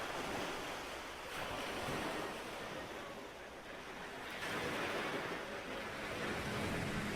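Steady surf rolls in at a historic Black beach, broad wash of breaking waves with swells rising and easing, wind buffeting the microphone throughout and no voices.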